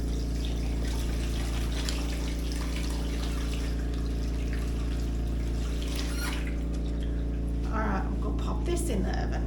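Water runs steadily from a kitchen tap during handwashing, a constant rushing flow that stays loud and unbroken, with small splashes near the end and a voice talking faintly.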